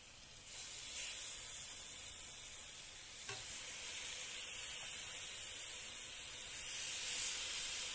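Chicken fries in a hot grill pan with a steady, fairly loud sizzle and hiss, joined by a few soft stirring scrapes and brief clinks, swelling slightly toward the end.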